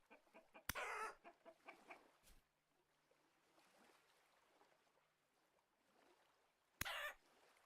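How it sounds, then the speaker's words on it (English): Chickens cluck repeatedly in the Vintage Story video game, with a rhythmic series of clucks followed by quieter scattered calls and two sharp bright bursts, heard alone. "chickens need to be fed to brood egg boxes"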